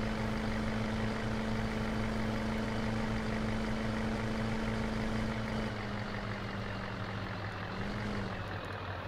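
A Ford F350 work truck idles in Farming Simulator 2015, giving a steady, loud engine drone with a low humming tone that holds throughout and shifts slightly near the end.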